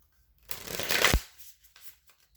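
Tarot cards shuffled by hand in one quick riffling burst of papery flutter with a soft snap at the end, close up and alone, fading to quiet after.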